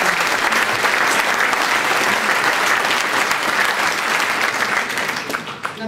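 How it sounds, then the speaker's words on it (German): Sustained, loud audience applause fills a hall at a 75th birthday celebration, dense clapping from a large crowd that holds steady before tapering slightly at the end. "Applaus."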